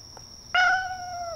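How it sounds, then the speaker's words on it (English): A single clear, close cat meow from a video game rises suddenly from a quiet, hissy background and holds steadily for under a second. "I hear a cat. It's coming from over here."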